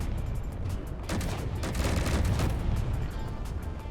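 Ship weapons firing in the space game Space Engineers, a dense, continuous barrage of rapid gunfire and booms, loud and steady throughout with no talk.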